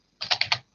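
Four quick keystrokes on a computer keyboard as a prompt is typed, a short close burst of clicks with no talking.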